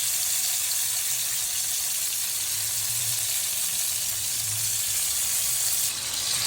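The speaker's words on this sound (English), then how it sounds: "Add oil. Place the prawns, marinate the prawns into the wok." Prawns fry in oil inside a wok, giving a steady broadband hiss with a low bubbling undertone that swells in the middle. It runs continuous and close, with no talk.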